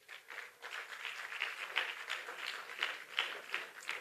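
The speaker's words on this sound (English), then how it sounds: "Let's clap for ourselves." Conference audience at an opening ceremony clapping together, a faint, fairly distant patter of applause with a steady, slightly pulsing rhythm and no talk.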